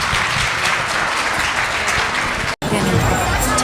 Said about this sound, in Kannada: ಜೋರಾದ ಚಪ್ಪಾಳೆಯೊಂದಿಗೆ ಸ್ವಾಗತಿಸಿ